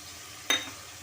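Tomato with ginger garlic paste hits a hot pan with a sudden sizzle and stir that flares up sharply and then fades into a soft, steady background.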